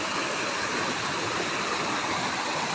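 Steady rushing of a stream's flowing water, a dense broadband wash that holds even and continuous throughout, close and fairly loud with no voices.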